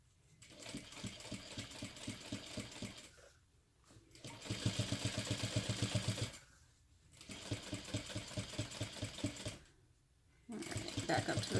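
A sewing machine stitching a crossbody bag in four bursts of rapid, even needle chatter separated by short pauses, close and clear, with brief reverse stitching.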